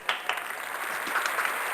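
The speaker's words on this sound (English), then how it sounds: "everyone give them a round of applause" A small audience at the UTSA Virtual Underground session applauds the band, a modest wash of clapping with a few distinct claps early on, steady and moderately quiet.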